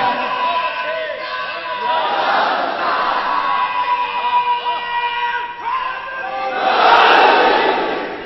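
Large crowd at a religious gathering about Karbala, chanting slogans together in loud, sustained waves of massed voices that rise and fall, swelling strongest toward the end.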